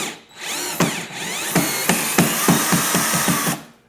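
A power drill bores through a rivet screw on a Yamaha SuperJet four-stroke watercraft while wedge sponsons are fitted, whirring up in a series of short, close, loud bursts with clicking pulses between them.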